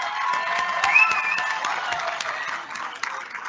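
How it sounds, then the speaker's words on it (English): A crowd at the Marquette University School of Dentistry Class of 2022 graduation and hooding ceremony applauds its graduates, with steady, moderately loud clapping and some cheering that tapers slightly toward the end. "please join me in applauding our graduates, the class of 2022"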